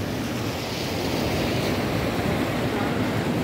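Ocean surf at Batu Alafan beach washes in a continuous broad roar, mixed with buffeting wind noise on the microphone and no distinct voices.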